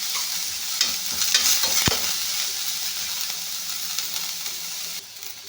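Finely chopped onions and curry leaves sauté in a pan for a broad bean stir-fry, with a continuous close sizzle, scraping stirs and one sharp knock near the middle, easing slightly at the end.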